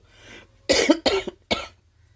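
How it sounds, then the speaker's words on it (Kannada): Three sharp, close coughs in quick succession after a faint murmur, each a harsh burst followed by quiet. "ತುಂಬ ಮಾತಾಡ್ತಾ ಇದ್ದರೆ ಕೆಮ್ಮು ಬರುತ್ತೆ, ಆಯಿತಾ?"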